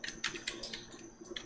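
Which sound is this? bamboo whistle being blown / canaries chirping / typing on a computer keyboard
typing on a computer keyboard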